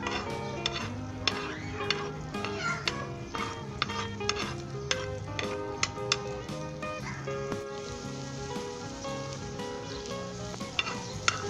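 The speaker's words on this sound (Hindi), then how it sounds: "आपने इसे घुमाना है, जैसे मैं घुमा रहा हूँ हल्के हाथ के साथ।" Paneer and egg scramble sizzling steadily in a pan on low-to-medium heat while being stirred gently, with frequent close spatula scrapes and clicks over a continuous frying hiss.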